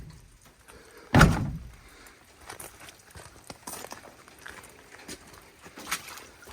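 The heavy steel door of a 1969 Chevrolet C50 truck swings shut under one finger, landing with a single solid, loud latching thunk. Quiet shuffling and light handling noises follow.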